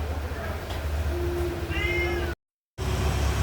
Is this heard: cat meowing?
yes